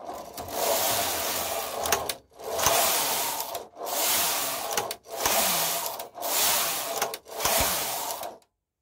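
Knitting machine carriage sliding back and forth across rows while knitting adult tights, six long rasping passes, each separated by a brief click and pause, close and fairly loud with no talking.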